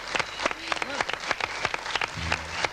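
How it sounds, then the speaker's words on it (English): A 1984 television telethon studio audience claps for a singer and a band, giving a moderate burst of applause with a few individual claps standing out. A voice speaks over it. "Another round of applause, ladies and gentlemen"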